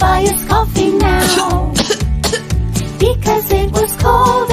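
Repeated coughing sounds are set against upbeat music with a steady, bouncing beat, all loud and up front.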